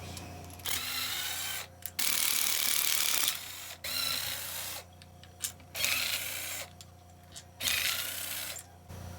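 A power tool spins off 13 mm bolts from the cover plate of a two-cylinder motor being torn down for scrap, in several loud whirring bursts of one to two seconds separated by brief pauses.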